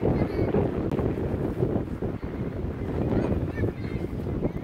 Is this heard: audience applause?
no